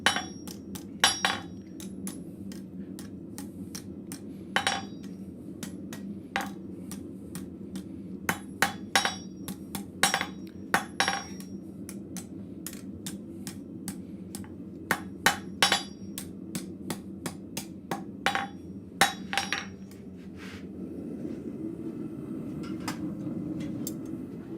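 A blacksmith hammers hot steel at the forge to taper it, with sharp, ringing hammer blows in irregular bursts. Some strikes are louder than others, and a low steady hum sits underneath before the hammering stops near the end.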